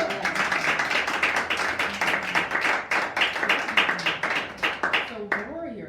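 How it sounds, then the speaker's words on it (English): Audience at a live talk event clapping in a steady, sustained round of applause, fading out as a voice begins speaking at the end. "Yes, can we clap for that?"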